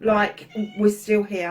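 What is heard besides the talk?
cat meowing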